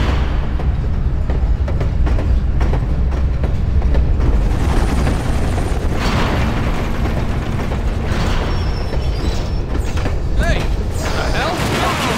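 Rumbling train motion in the video game TimeShift, a steady loud low roar with mechanical clatter running throughout, and voices talking over it at times.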